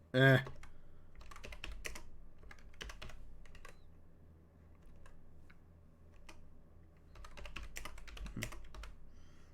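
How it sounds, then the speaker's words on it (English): Quick, irregular clatter of keys on a computer keyboard, close and fairly soft, with short bursts and pauses, after a brief voiced sound at the start. "Goddamn stupid typing, terrible."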